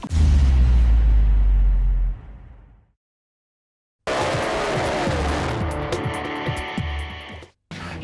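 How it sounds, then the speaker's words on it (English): Race cars at the 2006 Tasman Revival Series at Ruapuna roar past loudly, a heavy engine blast fading away, then after a brief silence another close, sustained engine howl with tire noise. "it's motor racing time"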